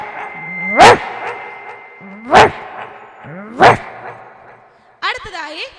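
A performer's voice imitates a German Shepherd barking, with three loud, separate barks spaced about 1.5 seconds apart, then a quick burst of yips and whines at the end.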